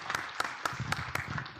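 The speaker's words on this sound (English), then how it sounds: "A big round of applause for them." Audience at a MedTech and healthcare workshop applauding panelists: scattered, fairly sparse claps from a modest crowd, individual hand claps standing out in an uneven rhythm at moderate volume.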